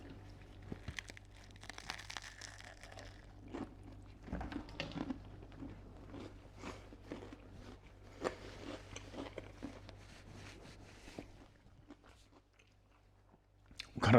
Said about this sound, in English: Got a lot of crunch on that first bite.